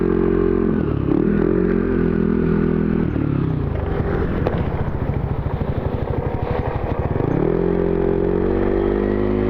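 Motorcycle ride on the road toward Dinadiawan, Isabela: a steady, loud engine drone with shifting pitch as the bike slows and picks up again, plus rattling clatter and wind rumble, with no talking.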